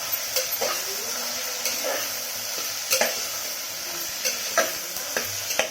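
Brinjal, beans and curry leaves fry in a pan for bisibelabath. A steady sizzle runs throughout, with a utensil scraping and stirring at regular intervals.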